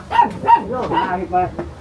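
A dog barks from under a house in a quick run of four or five sharp, close barks with short whining tones between them, and a voice can be heard around them.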